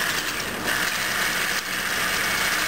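Loud continuous whirring buzz of an immersion blender mixing a Caesar vinaigrette, close and steady with slight shifts in pitch as the blade churns.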